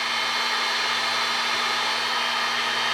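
A heat gun blowing steadily while shrinking Raychem heat-shrink tubing over wiring under the dash of an F100 race truck, a constant close whooshing roar with a low electrical hum and no talking.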